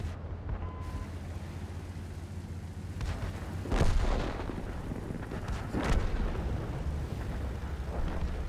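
Deep tank cannon blasts boom out in a video game, two or three heavy shots spaced seconds apart over a low engine drone.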